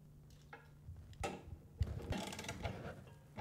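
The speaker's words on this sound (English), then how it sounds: "he's just cranking those down with his wrench" Wrench tightening the horn bracket bolts on a Harley-Davidson motorcycle, a series of close ratcheting clicks and metallic scrapes in short uneven bursts, fairly quiet.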